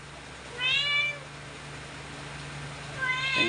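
A cat meows twice indoors, a clear drawn-out mew near the start and another beginning at the end, close and fairly loud over a faint steady electrical hum.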